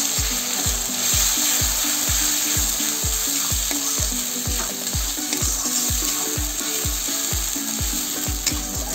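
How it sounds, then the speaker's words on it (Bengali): A paste of ginger, garlic, green chili and coriander stems sizzles steadily in hot oil for an aloo baingan curry. A spoon scrapes and taps the pan in a regular rhythm, close and with no talking. "এই মশলাটা আবার ফ্রাই করা হয়ে গেছে ভালো করে কষানো হয়েছে"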